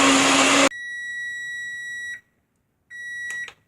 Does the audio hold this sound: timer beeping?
yes